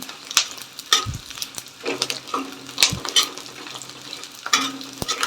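Edible gum (dink) fries and puffs in hot ghee with a steady sizzle, punctuated by repeated sharp scrapes and clinks of a spoon stirring the pan at close range, with no voices.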